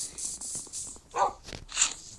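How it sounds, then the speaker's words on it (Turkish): A dog in Minecraft gives a few short barks and yips, fairly faint and spaced apart, with no talking. "arkadaşlar bu da benim köpeğim."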